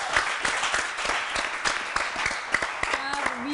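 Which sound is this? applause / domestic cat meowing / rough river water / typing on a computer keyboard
applause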